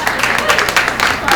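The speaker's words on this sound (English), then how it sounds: "can we all clap for him?" A brief burst of audience clapping, dense and loud, with a murmur of voices mixed in.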